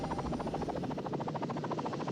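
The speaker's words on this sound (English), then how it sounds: "Airwolf departs in a halo of rotor wash, setting the entire yacht rocking" The Airwolf helicopter departs in a video game visual novel, its rotor producing a steady rapid thudding chop with a dense whooshing wash, continuous and fairly close.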